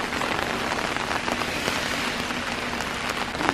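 Steady, dense rain pouring down outdoors during Storm Henri, hissing evenly on surfaces nearby with a constant close wash of drops and no voices.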